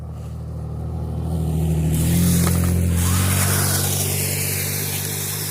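A small battery-powered Kyosho RC car drives close by in snow, its electric motor humming and whining as it swells louder midway, then eases off slightly while still running.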